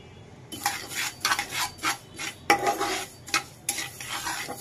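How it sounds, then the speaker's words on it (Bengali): Black cumin seeds frying dry in a pan for a mashed-seed bharta, giving bursts of crackling, spitting sizzle in uneven clusters with a stirring scrape, close up and fairly soft, with no talk. "এই তো কিছুক্ষণ ভেজে নেওয়ার পরে কিন্তু ফুটছে, দেখতেই পাচ্ছেন এভাবে ছিটে ছিটে ফুটে উঠবে"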